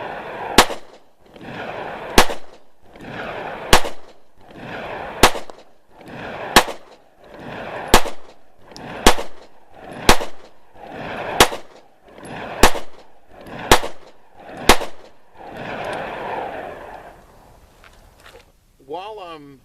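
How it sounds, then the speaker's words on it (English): A Taurus PT111 pistol fires a steady string of about a dozen single rounds, evenly spaced roughly a second or more apart, each a sharp, loud, close crack with a brief ringing tail. "I'm going to go ahead and shoot up the rest of this"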